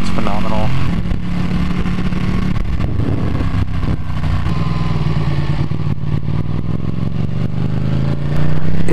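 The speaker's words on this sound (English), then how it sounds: "The Termi exhaust sounds phenomenal." A Ducati 899 Panigale engine with a Termignoni exhaust runs loud and steady throughout with a deep, throaty exhaust note, briefly rising at the end, with speech mixed in underneath.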